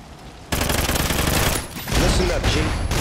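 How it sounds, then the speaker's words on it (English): An automated sentry gun in a first-person shooter fires dense, rapid bursts of loud gunfire that run almost continuously after a brief quiet start, with a short dip midway before another heavy volley. "The sentry gun."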